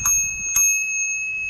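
Small bells fitted to an e-bike, struck twice in quick succession with bright ringing tones that linger and slowly decay, close and clear with no talking.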